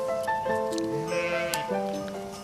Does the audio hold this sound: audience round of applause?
no